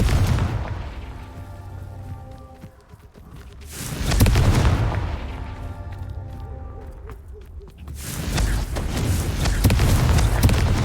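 A Confringo fire spell explodes in the video game Hogwarts Legacy, cast during a broom fight: three deep, loud booms about four seconds apart, each trailing off into a rumbling roar.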